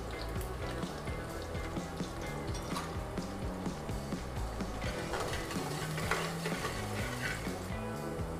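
Onion and green chillies frying in a pan for aloo puri sabzi, a soft continuous sizzle with bubbling crackle and faint stirring, moderately quiet and without speech.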